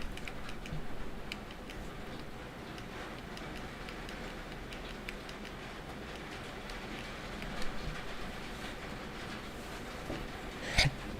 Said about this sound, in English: Can you guys hear the thunderstorm now?